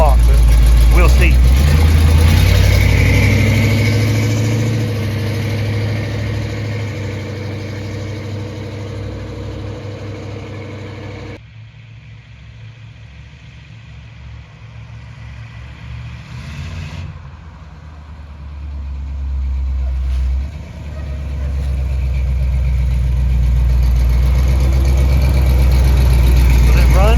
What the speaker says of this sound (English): It idles nice and smooth, got a little bit of chop to it, nothing bad.